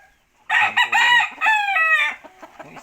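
An Ormoc Gold rooster crows loudly and close by, one strained, wavering call lasting about a second and a half after a brief quiet start, then fading into faint clucks and rustling.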